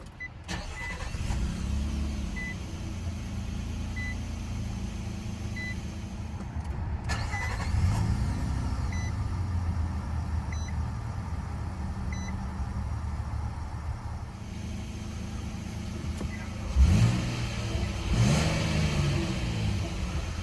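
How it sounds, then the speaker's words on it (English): A new 2022 Nissan Frontier SV with a 3.8-liter V6 starts by push button, the engine catching and settling into a steady idle inside the cab, with a brief rev and faint chimes. "to start the new Frontier, just keep that key fob inside the interior, put your foot on the brake, and locate the engine start button"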